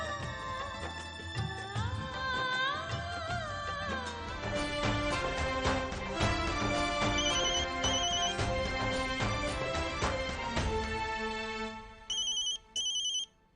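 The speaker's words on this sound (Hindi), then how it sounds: "अर्चना किसका फोन है?" A melodic phone ringtone plays loudly and steadily, a busy electronic tune ending in a few short repeated chirps.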